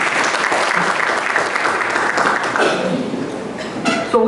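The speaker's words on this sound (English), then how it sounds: "Give Chairman Ram a round of applause" Applause for Chairman Ram at a disaster response resilience workshop: a dense, steady round of clapping from an indoor audience, fading toward the end as a voice begins over it.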